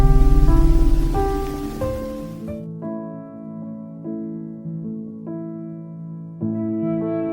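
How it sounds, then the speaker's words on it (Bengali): Heavy, steady rain pours close by for a couple of seconds, then cuts off abruptly and gives way to soft sustained musical tones. "আপাতত বৃষ্টি উপভোগ করছি।"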